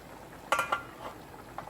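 A metal pot lid is set partly over a simmering pot of okra leaves and okra, giving two quick close clinks, then quiet kitchen background.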